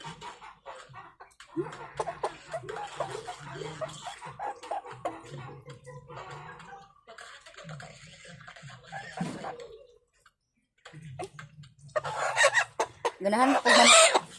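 Chickens cluck and squawk nearby throughout, with a brief pause, then a rooster crows loudly near the end.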